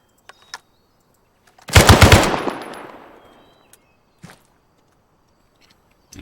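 A BAR rifle fires in Arma 3, a short loud burst of several rapid shots with a trailing echo, bracketed by faint clicks and taps.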